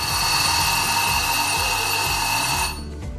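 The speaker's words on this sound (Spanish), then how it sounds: "Una breve señal audible sonará." An oven timer's audible signal rings out as a loud, steady electronic tone lasting nearly three seconds, then cuts off abruptly, with no voices present.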